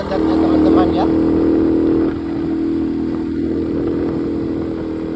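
A motorcycle engine labouring up a steep cement road, a loud steady droning note close by that drops slightly after a couple of seconds and keeps straining, with someone talking over it.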